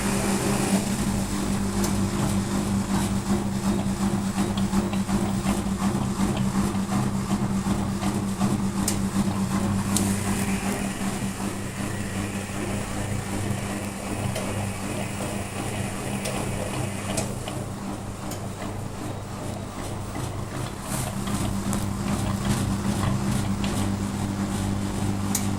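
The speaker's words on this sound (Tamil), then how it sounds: "இப்போ பார்த்தீங்கன்னா இந்த மிஷின் துணியை துவைச்சிக்கிட்டு இருக்குது" A washing machine running on an inverter washes clothes with a steady, continuous mechanical churning hum and faint rhythmic ticking that shifts slightly in intensity over a long stretch.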